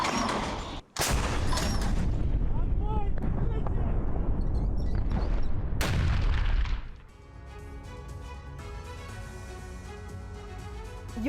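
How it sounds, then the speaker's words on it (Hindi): Heavy booms and rumbling blasts of Russian D-30 howitzer artillery fire, loud and continuous in war news footage from the Kherson area, cutting out briefly, then fading into a softer tonal background. "रूस के D-30 होवित्जर ग्रुप ने अटैक किए।"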